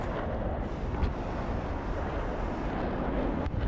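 Munitions striking their target in the Broken Arrow war video game, a dense continuous rumble of explosions with sharp bursts near the start and end, loud and without speech.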